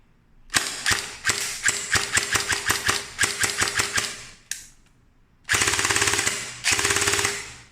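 A CYMA JD-002 gel blaster fires gel shots in rapid bursts of sharp, loud, mechanical cracks. Short quick strings of shots stop and restart, and two long continuous bursts come at the end.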